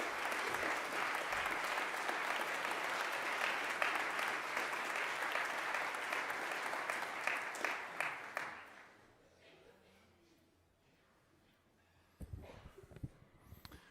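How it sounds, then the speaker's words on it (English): Dense, sustained applause from an audience in a school chapel fills roughly eight seconds, then fades to quiet room tone before a few brief, louder bumps near the end. "So please stand and take a round of applause."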